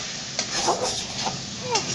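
Food stirred in a cooking pan over a steady low sizzle, with a few soft scrapes and clinks of a spoon at irregular moments, close and moderately loud.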